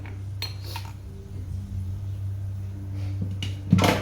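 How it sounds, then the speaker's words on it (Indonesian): Pots and utensils clatter in sporadic knocks and clinks over a steady low hum while vegetables are stir-fried in a home kitchen, with a sharper scrape near the end. "Sekarang saya mau masak sayur, mau tumis sayur."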